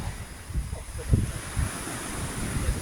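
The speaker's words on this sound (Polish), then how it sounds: "troszkę jeszcze wieje, ale nie jest ten wiatr taki uporczywy jak był po południu" Low, rumbling wind buffeting the microphone in uneven gusts at night in Nesebar's old town, with a soft broadband rush and faint murmurs underneath.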